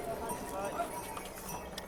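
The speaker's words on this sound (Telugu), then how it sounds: "గుర్రం మీద రావాల్సిన వాళ్ళు గుర్రం మీద వస్తున్నారు" Horses' hooves clip-clop along the busy Kedarnath trek path in 2025, a steady patter of steps mixed with crowd chatter and voices throughout.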